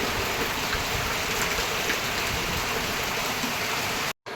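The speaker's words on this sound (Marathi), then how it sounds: "बाहेर पाऊस असल्यामुळे आमच्या दारातून बघा कसे झरे वाहत आहेत" Rain falls steadily outside a doorway while rainwater streams run past, a constant close wash of hissing and rushing water that cuts out abruptly for a moment near the end.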